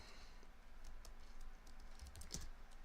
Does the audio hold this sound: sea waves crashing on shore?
no